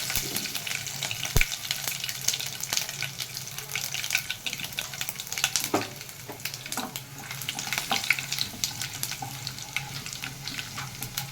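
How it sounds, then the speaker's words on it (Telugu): Dried red chillies, tempering spices and garlic cloves fry in hot oil for a broccoli dal, giving a steady crackling sizzle with occasional sharp pops and stirring clatter. "మిరపకాయ వేగిందండి పోపు దినుసులు వేసుకున్నాం అలాగనే వెల్లుల్లి రెబ్బలు"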